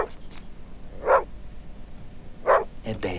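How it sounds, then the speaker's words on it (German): A dog in a German-dubbed children's vampire series gives two clear, short barks about a second and a half apart, moderately near, with a faint yip at the start and no talk over them. "Er bellt schon wieder."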